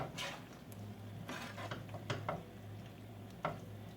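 A utensil stirs sausage and potatoes in a pan, giving a few soft scrapes and distinct clinks against the metal over a low background hum, quiet and close.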